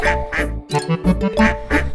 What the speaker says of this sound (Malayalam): അമ്മ വന്ന് വിളിച്ചു ക്വാക്ക് ക്വാക്ക് ക്വാക്ക്.